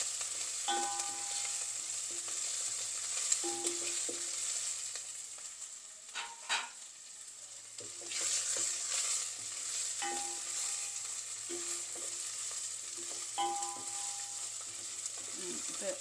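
Green chillies with chana and urad dal fry in oil for lemon rice, a low continuous sizzle with occasional spoon scrapes and a brief louder clatter partway through, no speech.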